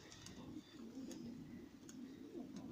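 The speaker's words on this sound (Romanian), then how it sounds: "A revenit cu al doilea porumbel. Acesta este un mascul" A male racing pigeon coos softly and low, a faint steady murmur with a few light high chirps over it.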